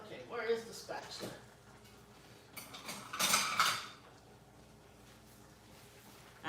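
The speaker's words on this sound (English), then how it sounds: "All right, let me get a spatula." Kitchen utensils clatter and scrape while someone rummages for a spatula, with a louder burst of metallic jangling midway and a person talking over parts of it.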